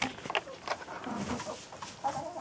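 Laying hens on warm, clean hay bedding in a winter coop cluck softly and repeatedly, several nearby birds making short, irregular calls with no talking.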